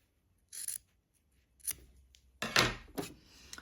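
Scissors snip through quilt binding fabric, trimming the joined seam allowance to a quarter inch; a few distinct close cuts and rustles, alone without talk.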